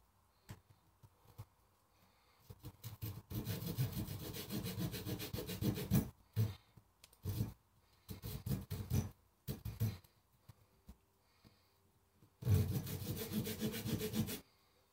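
A blade cuts a line into material while a live trap is built, heard as several close bursts of rough rubbing and sawing strokes separated by quiet pauses, with no talk.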